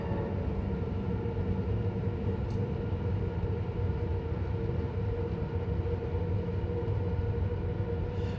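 A Victory Works Terrier steam locomotive hauling Seddin freight in Train Simulator runs with a steady low rumble and rolling wheel drone, moderately loud and continuous, with no talk over it.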